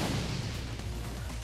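A grenade goes off in Shadowrun as a loud, close, low boom at the start, followed by a rumbling tail that fades over about a second and a half.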